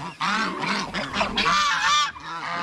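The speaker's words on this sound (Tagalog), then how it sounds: "Mga malaki yung gansa natin." Large domestic geese kept alongside turkeys on a backyard farm honking close by, a run of loud, harsh, repeated calls that overlap and rise and fall over about two seconds.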